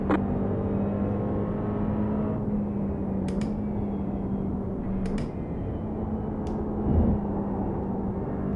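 A steady engine drone and whine from a racing car on a wet track in the UK, heard from inside the car, with a continuous hum and a few brief clicks, no talking.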